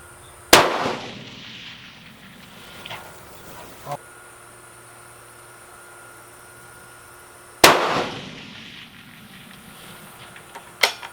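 Two sharp, loud rifle shots fired at small long-range targets, about seven seconds apart, each with a trailing outdoor echo, plus a couple of faint knocks and a low murmur in between.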